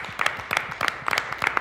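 A studio audience on Shark Tank México applauds a seven-year-old entrepreneur girl, a short burst of rhythmic, fairly close clapping in even pulses.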